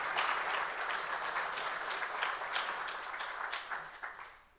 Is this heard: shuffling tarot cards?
no